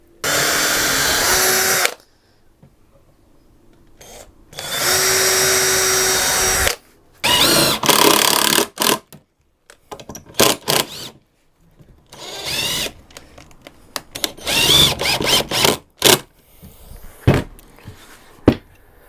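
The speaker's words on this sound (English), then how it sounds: "So I'm going to put bigger pilot holes in for the rest of them." A power drill bores bigger pilot holes into pallet wood, sounding in several loud, sustained whirring bursts separated by short pauses, with clunks of handling between runs.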